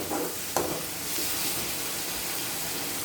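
Ginger garlic paste sautéing with onions in a hot pan, a steady soft sizzle and hiss with a few sharp stirring scrapes near the start, close and fairly quiet.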